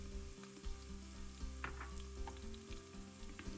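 Sliced garlic, about 1.5 tablespoons, sizzles in hot oil with golden brown onion for an Afghan Kabuli pulao, a steady close frying hiss with faint stirring scrapes and a low background hum, no talk.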